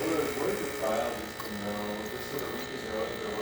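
Saeco Eroma espresso machine after a full tune-up pulling a test shot, a steady close pump buzz and hum with a faint ticking, running throughout while a person talks.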